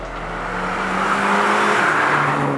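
A 2021 Mini Cooper S Convertible's engine growls steadily through its twin-barrel exhaust tips, a loud, deep rumble that swells as it revs, close and without talk.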